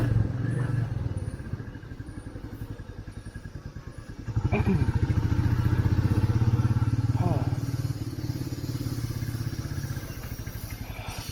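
A Royal Enfield Meteor 350 motorcycle being ridden, its steady thumping engine drone loud and continuous, swelling louder midway through as the ride goes on, with no speech over it.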